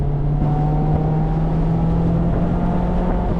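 A Mazda ND3 Miata driven fast on a public road, a loud steady engine drone with a constant tone and road rumble filling the cabin, no talk.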